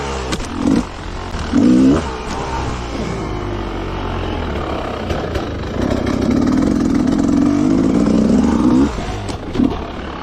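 An enduro motorcycle engine revs nearby in uneven bursts, growling and surging, then holding a sustained rough rev before dropping off, with short throttle blips around it.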